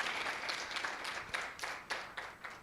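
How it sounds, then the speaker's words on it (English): Faint, scattered applause from an audience in an auditorium at a university research competition final, with soft, irregular clapping that swells in a few quick bursts. "So you can clap for them."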